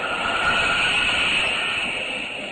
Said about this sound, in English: 90 miles an hour. Good speed for a train